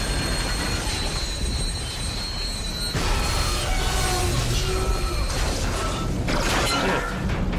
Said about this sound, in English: What the fuck happened to the train?